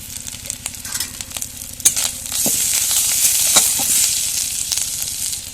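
Spices with onion paste, turmeric and red chili powder sizzling and frying in a pan while being stirred, a steady hiss with scraping spoon strokes and occasional clinks.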